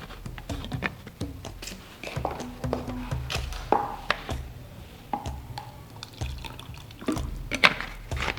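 Water poured to rinse equipment while making a lotion, a trickling, splashing flow broken by clinks and knocks of containers, fairly close and without talk.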